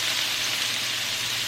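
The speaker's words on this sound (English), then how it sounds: "I'm going to caramelize the onions. I'm going to cook it nice and slow." Onions slowly caramelizing in a pan give off a steady, even sizzle with a bright hiss, heard close and alone without any talk.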